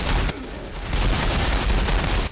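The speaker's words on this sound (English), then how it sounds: "War bikers firing, boss!" Ork war bikers in Warhammer 40,000 open fire, giving a loud, dense rattle of gunfire with a brief dip before a sustained, ragged volley.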